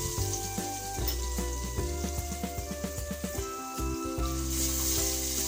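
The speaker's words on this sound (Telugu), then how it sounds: "ఫ్రెష్గా దంచిన అల్లం పేస్ట్ వేసుకోవాలి." Curry leaves and freshly pounded ginger paste sizzle in hot oil for egg biryani, a close steady frying hiss dotted with soft crackles and pops, with no voices.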